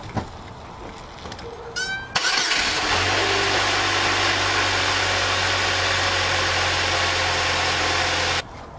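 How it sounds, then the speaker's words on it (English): A 2003 Oldsmobile Alero with freshly changed spark plugs cranks briefly, catches with a burst, then settles into a steady, even idle that runs unbroken for several seconds before cutting off. "We'll start the engine, make sure everything's good, make sure I'm not gonna blow anything up. Okay, let's start her up."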